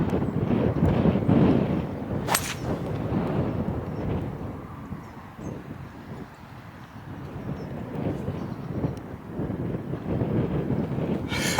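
Strong wind buffets the microphone on a golf course at the tenth hole, a par 4, producing loud low rumbling gusts that rise and ease. A brief sharp crack cuts in early, and no one speaks.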